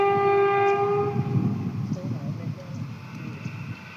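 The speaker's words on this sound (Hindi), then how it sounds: "बड़ी जोर और शोर से ट्रेन आती हुई दिखाई दे रही है" An electric train passing loudly, opening with a sustained horn blast that fades into a rumbling roar of wheels and carriages, with voices speaking over it.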